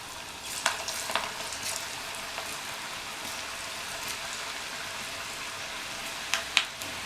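Snake gourd pieces fry in hot oil, giving a steady, close crackling sizzle with scattered pops and sharper spits near the start and the end. No voices are heard.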